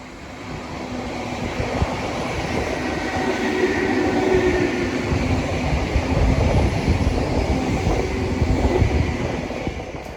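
A container freight train rumbles past at Milton Keynes with a steady, loud roar of wagons on rails, continuous throughout with faint clatter and a low hum.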